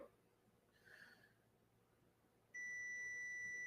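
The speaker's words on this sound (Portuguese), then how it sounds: "Não é escutar só o bip, é olhar para o multímetro" A faint short tone, then a steady high electronic beep from a multimeter continuity test on a circuit board starts and holds at the end, loud against quiet background.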